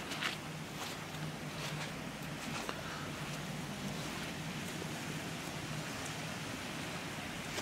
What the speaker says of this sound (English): snow on the ground and the sound of stream